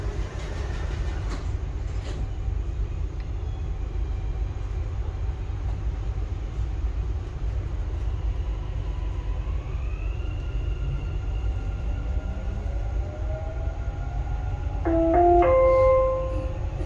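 Continuous low rumble inside a moving Dubai Metro Green Line train, steady and close, with rising whine from the motors, faint clatter, and brief electronic chime tones near the end.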